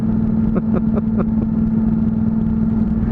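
A Honda CTX motorcycle engine hums close and loud at a steady mid-pitched drone as the bike rides off with a rider and passenger. A few brief higher knocks sound at the start.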